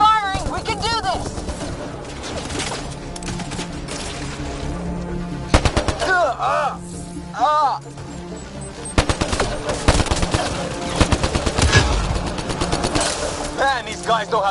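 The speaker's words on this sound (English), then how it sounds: "Just keep firing! We can do this!" Sustained gunfire in a chaotic sci-fi firefight from the video game Mass Effect Andromeda, with rapid automatic bursts and sharp single shots layered over explosions and shouted dialogue throughout.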